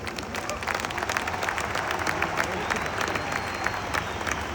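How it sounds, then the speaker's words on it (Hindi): Audience at a large SafeShop spiritual gathering applauding together, a dense steady wash of many hands clapping at even loudness throughout. "तो आप सब अपने लिए एक बार तालियां बजाएं।"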